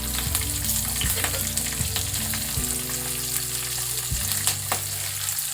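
Finely chopped green chillies hit hot oil with golden-browned cashews, a loud, constant close sizzle of frying, with a low stirring rumble recurring every second or so.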